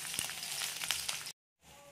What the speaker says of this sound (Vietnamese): Thì củ hành mình sẽ xào lên để cho nó thơm thôi nha